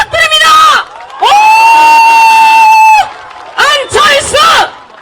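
Large rally crowd at a Jeju traditional five-day market cheering, whooping and clapping in loud sustained bursts, a long swell in the middle and two shorter surges near the end, with shouted voices mixed in.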